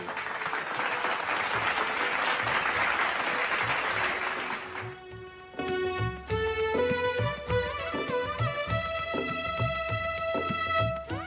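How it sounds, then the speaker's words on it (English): Audience applause for a team placing second runner-up in a school theatre contest, a dense clapping burst lasting about five seconds, then cut off as loud tonal music with a beat takes over. "A big round of applause for them."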